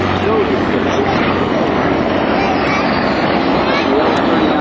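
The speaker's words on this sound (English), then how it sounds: "Get a great chance to hear these airplanes. The H-34 is so distinguished." An H-34 helicopter at the 2006 Jones Beach airshow gives off a loud, steady roar of engine and rotor that stays constant and close throughout, with no breaks.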